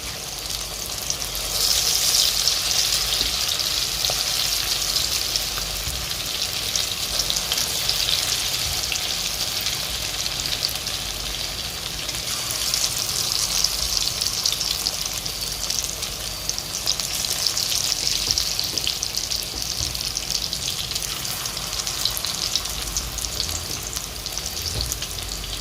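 Small moong dal pakoras deep-fry in a kadai of hot oil, a dense, continuous bubbling sizzle that holds steady and close for the whole stretch with no talking.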